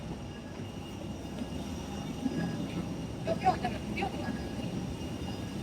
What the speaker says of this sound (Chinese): 看有点大，飞机的引擎声挺吵闹的。